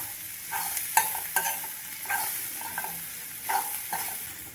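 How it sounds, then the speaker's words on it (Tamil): Grated plantain frying with sautéed onions in a pan over a low flame: a soft, continuous sizzle broken by sharp, repeated scraping strokes of a stirring spoon, close up and without speech. "துருவி வச்சிருக்கிற வாழைக்காயை சேர்த்துக்கலாம். அடுப்பை சிம்மில் வச்சு கிளறி கொடுத்துக்கலாம்."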